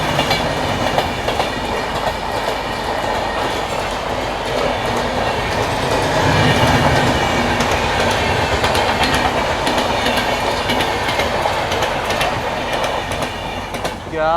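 A Barauni–Lucknow train rolls past in India, a loud, steady rumble of railcars with rhythmic clickety-clack of wheels on track running throughout, with no voices heard.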